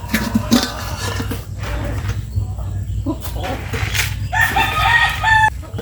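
Chickens cluck and a rooster crows over a steady background hum, with several birds calling close by throughout.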